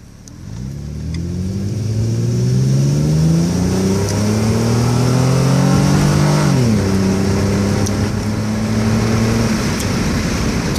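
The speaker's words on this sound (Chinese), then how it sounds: "以 SP7 的模式进行路试，转速的部分比较能 hold 住在高转速的部分，所以开起来引擎的拉力会比较的大" A Nissan Cefiro A33 automatic with an aftermarket throttle controller revs hard on a road test in sport mode, its engine rising steadily through high RPM, dipping briefly at a shift, then climbing again, loud and close with no talk.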